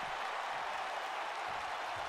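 A live wrestling crowd, finally back in person after pandemic restrictions, cheers and applauds as a wrestler goes over the barricade. Dense, steady roaring noise throughout, with no distinct voices standing out.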